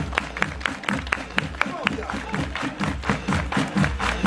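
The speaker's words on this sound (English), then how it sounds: "Everybody clap your hands." A crowd at a summer Scouting gathering claps hands in a steady rhythm, sharp regular claps keeping time over a thumping music beat with voices mixed in.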